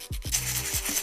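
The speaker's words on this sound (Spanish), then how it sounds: "podemos utilizar un papel de lija para lijar el exterior del cigarrillo" Sandpaper rubs over the outside of an electronic cigarette in a steady, close, continuous scraping hiss lasting about a second, alone.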